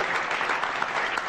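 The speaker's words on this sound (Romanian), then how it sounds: "Aplauze!" Studio audience applauding on a Romanian TV talk show, a dense, steady burst of many hands clapping at once, fairly close and filling the room for a brief moment with no voices.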